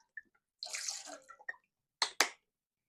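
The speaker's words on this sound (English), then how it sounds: "I just need to fill up my bowl with some water" Tap water runs into a bowl in short bursts, a longer pour followed by two brief splashy gushes, close and clear with no talking.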